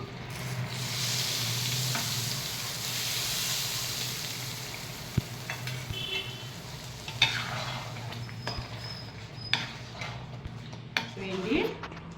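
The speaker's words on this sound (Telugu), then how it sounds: "ఇప్పుడు నేను ఈ తడకను పన్నీర్లో వేసేస్తున్నాను" Hot tadka tempering sizzles and fries as it is poured into paneer for dhaba-style palak paneer, with a spoon stirring and scraping the pan, soft clinks scattered through and faint talk underneath.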